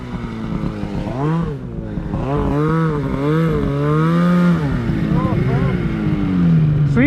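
Polaris Khaos 9R snowmobile engine running steadily while riding through low snow, a loud close drone that rises and falls in pitch with the throttle through the whole stretch.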